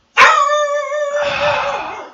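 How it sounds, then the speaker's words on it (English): A single house dog lets out a long, drawn-out bark-howl that breaks into a rougher, noisier tail, close and loud, alone with no talk over it. "The dog has seen somebody outside."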